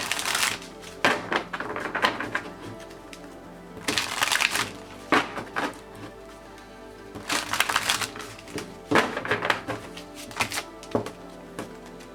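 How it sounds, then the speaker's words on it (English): Tarot cards are shuffled in several bursts of quick riffling and slapping, each flurry separated by brief pauses, close and fairly loud. "So I'm gonna go ahead and start shuffling the cards now."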